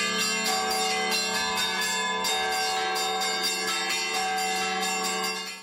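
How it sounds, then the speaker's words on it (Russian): Twelve church bells of the Resurrection church, each tuned to its own pitch, ring together in a loud, sustained peal with rapid overlapping strikes that continue throughout before fading slightly at the end. "И здесь есть сразу 12 колоколов, каждый из которых имеет свою тональность."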